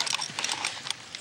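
A competition horse at a three-day event is led at a walk, its hooves clip-clopping in a quick, close run of hollow steps over about a second.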